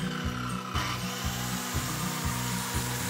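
A power saw cuts through roof framing wood in a close, loud buzzing whine with a regular pulsing rhythm of repeated strokes, and no talk.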